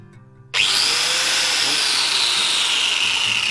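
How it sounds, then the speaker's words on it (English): A power sander starts abruptly half a second in and then runs loud and steady against a chainsaw-carved wooden axe, giving a continuous high whine with a coarse abrasive hiss close by. "Let's start sanding."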